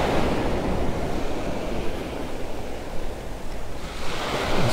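Ocean waves wash onto Vanderbilt Beach in North Naples, Florida, in a steady broadband surf roar with gusts of wind buffeting the microphone, and no voices.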